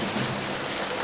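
An audience of children rubbing their hands together to imitate rain makes a steady, soft, broadband hiss that stays even throughout, with no talking.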